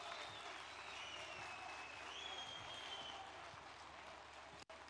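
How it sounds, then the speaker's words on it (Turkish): Applause from a crowd greeting a president and a Turkish domestically built car at a test-drive event, a steady, fairly distant wash of clapping that carries on unbroken. "Büyük alkışlarla lütfen."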